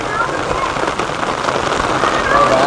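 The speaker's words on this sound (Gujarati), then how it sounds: "આ વરસાદ ચાલુ છે ભાઈ અમારા ગામમાં અત્યારે" Steady rain falling in a village in Gujarat during the monsoon, a dense continuous hiss of drops on surfaces, loud and close, with no talk.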